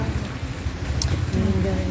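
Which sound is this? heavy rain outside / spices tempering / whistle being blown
heavy rain outside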